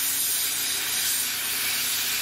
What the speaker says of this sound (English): I want to stay with kind of an upward direction, spraying down onto the model.